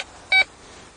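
Metal detector signal: a single short, bright electronic beep from a Quest Q detector, close and clear over faint background noise.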